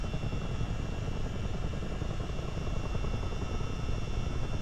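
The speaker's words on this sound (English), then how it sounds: "we're flying here with a Chinook" A Chinook helicopter in a flight simulator game, its rotor and engine roar holding steady, loud and continuous throughout with no talk over it.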